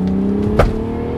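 A car drives by with a steady engine drone and a brief louder surge of acceleration near the middle, heard close with no talking.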